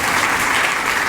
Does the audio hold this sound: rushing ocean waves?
no